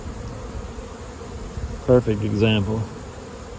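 Honey bees buzz steadily at a hive during a mite check, a dense continuous drone close by with brief talk over it.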